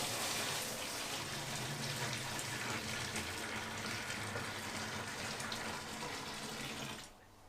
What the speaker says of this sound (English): Now it's time to add the hot water